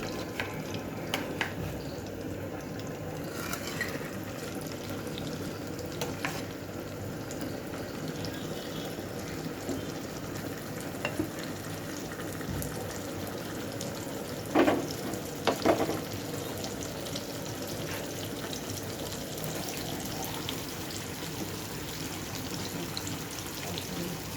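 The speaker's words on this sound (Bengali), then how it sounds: "এবার মাছটা ভেজে নিব" Fish, moya and Raipur varieties, frying in a pan for a home lunch, a low continuous sizzle with faint watery crackle throughout and a couple of brief clattering knocks midway.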